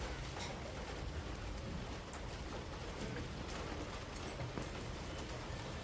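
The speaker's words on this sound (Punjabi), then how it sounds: "ਮੀਂਹ ਤੇਜ਼ ਸ਼ੁਰੂ ਹੋ ਗਿਆ" Steady, dense rain pours down, a continuous hiss of drops drumming on surfaces, with no voices.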